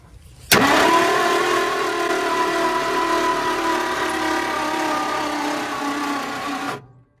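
A 1966 Ford engine is cranked by the starter, a loud steady whirring churn that starts abruptly and runs for about six seconds without catching before cutting off.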